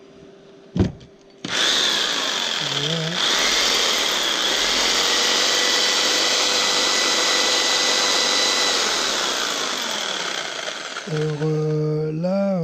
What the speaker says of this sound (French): ma scie sauteuse